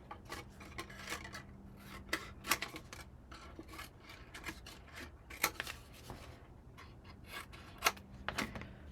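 Beveled paper flaps are trimmed by a quarter inch with scissors: a quick run of close, crisp snips and paper rustles in irregular bursts, fairly quiet.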